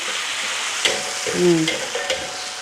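Chopped tomatoes go into a pan of frying onions for a curry in a home kitchen, giving a steady close sizzle with a few clinks and scrapes of a spoon stirring, no one speaking.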